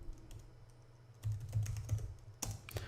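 Quiet, close computer keyboard typing comes in scattered clicks and short bursts of keystrokes, with a faint background hum.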